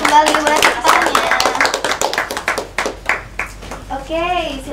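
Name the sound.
applause in a classroom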